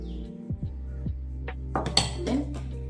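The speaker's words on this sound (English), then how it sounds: "After beating it for a while, we're gonna add in the coconut milk." Kitchen clatter of utensils and a bowl while coconut milk goes into a beaten ice cream mixture, with several sharp clinks and scrapes in the near field and a steady hum underneath.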